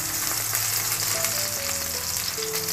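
Tomatoes fry in a pan with a steady, close hiss and crackle and faint stirring. Quiet tonal hums run underneath, with no voices.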